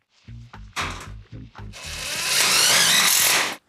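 A self-drilling screw is driven into a metal drywall stud during a bathroom remodel: several short stuttering bursts from the power driver, then a sustained grinding whine of about two seconds as the screw bites into the steel, up close.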